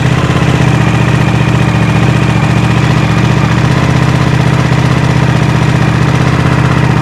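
A Suzuki V-twin superbike engine idling close by, loud and steady, with a low, even throbbing pulse that never changes through the whole stretch.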